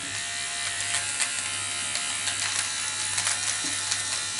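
Electric nasal hair trimmer buzzing continuously close up, a steady electric hum with a faint grinding texture as it cuts, no talking.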